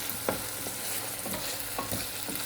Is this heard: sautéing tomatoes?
yes